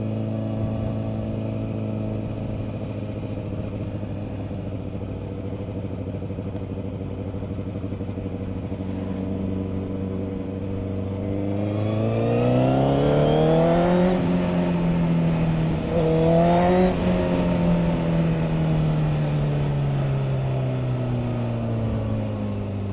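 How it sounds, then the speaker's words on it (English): Honda Fireblade motorcycle engine idling steadily, then revving up and down through the gears with a loud rising and falling whine, close and continuous, in heavy traffic. "it is absolutely rammed with traffic"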